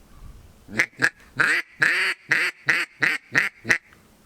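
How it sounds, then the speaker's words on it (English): A duck call blown nearby gives about nine raspy quacks in a steady rhythm, the middle notes drawn out longer, with no voices. "So here's the duck call."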